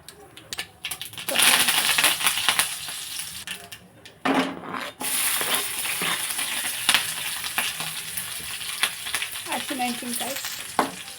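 Cumin and mustard seeds fry in hot oil in a heated pan, a steady close sizzle and crackle that runs almost the whole time with a short lull midway, while a voice murmurs faintly underneath.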